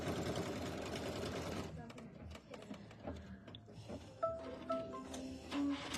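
A sewing machine stitches black triangles together for a quilt, first in a steady rapid run and then in shorter bursts, while someone talks over it.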